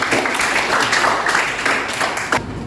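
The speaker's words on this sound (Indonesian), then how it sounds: "Aplaus untuk ketua kelasnya." A classroom of students clapping for their class leader, a short burst of dense, close applause lasting under three seconds.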